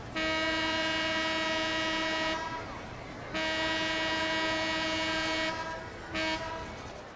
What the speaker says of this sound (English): The sound of the horn signified that the rides were going to close for the day.